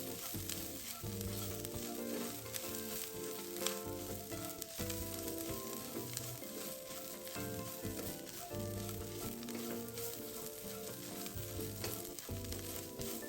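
Garlic cloves and five dried chilies fry in a wok for a lemongrass braised pork belly, giving a steady, even sizzle that runs throughout at moderate loudness, backed by faint instrumental music and with no talking.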